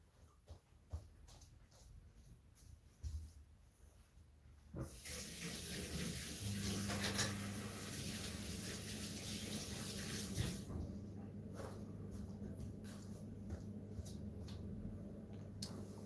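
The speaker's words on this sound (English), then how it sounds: "I'm gonna have to wash my hand." Hands are washed under a running tap, the water gushing steadily for several seconds in the middle before cutting off, with scattered clicks and small sounds around it.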